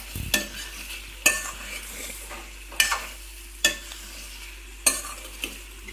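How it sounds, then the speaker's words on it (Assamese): Desi chicken meat frying with spices in a pan, with a steady sizzle broken by about five sharp scrapes of a stirring utensil at regular intervals, close and alone without talk. "মই সৰ্বমুঠ 25 মিনিটমান মাংস ভাজিছোঁ দেই।"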